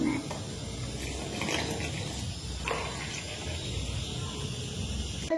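A glass of water is poured into pancake batter, a continuous close splashing, trickling pour that holds steady for several seconds.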